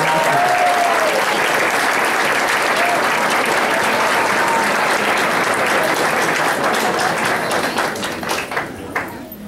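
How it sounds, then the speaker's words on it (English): Loud, sustained applause from a school board meeting audience honoring a retiring official, dense clapping that fills the room for about nine seconds before thinning out near the end. "if we could just have 1 more round of applause for Mr. Sheridan for all the great things he's done."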